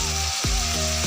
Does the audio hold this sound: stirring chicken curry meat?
yes